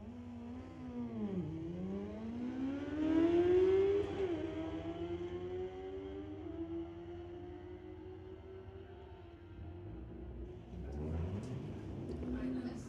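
Street-legal motorcycles in a drag race pass at Mission Raceway Park, a rising engine whine that climbs steadily across the run and stays loud and continuous throughout.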